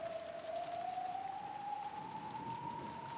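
Rain sound effect in the Umineko visual novel, a soft, constant hiss of rainfall with a steady rising tone running through it, and no one talking.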